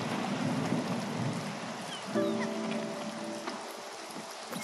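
A Spiritfarer storm brings steady rain hissing on a boat deck, with a low thunder rumble rolling underneath and some faint tonal game sounds joining partway through.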